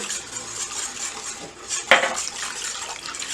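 Canola oil being mixed into a chipotle lime vinaigrette, a steady soft swishing with one sharper clink of utensil against the container near the middle, close and alone without talk.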